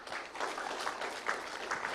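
An audience applauds a presenter at a research seminar, a steady, fairly faint patter of clapping from a moderate-sized crowd.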